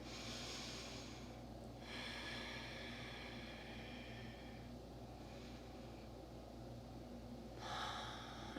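Slow, deep breathing during a gentle yoga session, with several long airy inhales and exhales close by over a steady background hiss.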